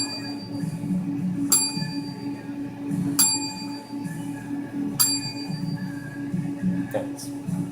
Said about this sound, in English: do a 10-bell salute for our another fallen wrestler, Outlaw Ron Bass.